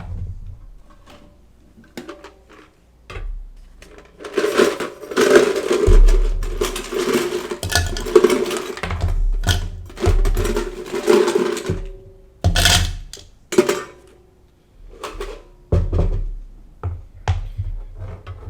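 Ice scooped and rattled for a blended Blue Hawaiian cocktail, with bursts of clattering cubes and scraping knocks rising and falling near the mic across the stretch, separated by brief pauses.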